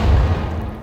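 A heavy, deep blast from the video game Vampire: The Masquerade - Bloodlines opens loud, then its low rumble rolls off over less than a second with no one talking.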